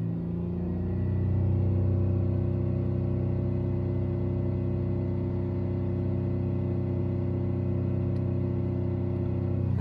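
A car engine climbs and then holds a steady, droning rev at around 4,000 RPM, a loud, continuous rumble with no voices.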